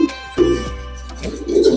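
Pigeons in a breeding loft coo in short low murmuring bursts nearby, with some clicks and faint background hum.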